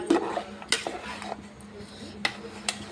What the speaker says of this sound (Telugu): ఇప్పుడు ఈ బెల్లం అంతా కరిగేంత వరకు మనం బాగా స్టిర్ చేస్తూ ఉండాలి, మిక్స్ చేయాలి బాగా.